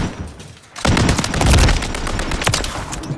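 Video game gunfire erupts after a brief lull: rapid bursts of automatic weapon shots rattle loud and close, with sharp cracks and booms piling into a sustained fusillade.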